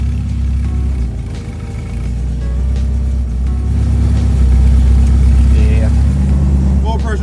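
A turbocharged Honda Integra engine catches and settles into a steady, loud idle, its low rumble holding with slight swells in level.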